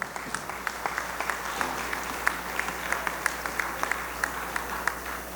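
Audience applause fills a hall at a medical association convention honoring young physicians and medical students, a steady wash of many hands clapping with scattered sharper claps popping through, moderately loud and continuous.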